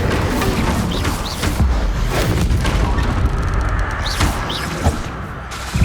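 Spell blasts in Hogwarts Legacy: repeated booming, crashing impacts and magical bursts through a dense, loud combat mix, with a couple of sharper hits near the end.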